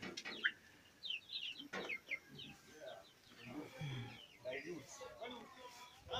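Chickens clucking around a village homestead where cows are also kept, scattered faint calls and clucks at a distance over a quiet outdoor background, with a person talking now and then.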